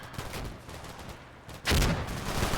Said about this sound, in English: Even inside the factory, the BTRs are shooting and scooting.